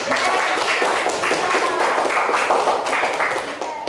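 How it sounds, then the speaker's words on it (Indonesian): Classroom applause from a group of students, a dense burst of steady clapping lasting a few seconds before tapering off at the end. "Tepuk tangan buat kita semua."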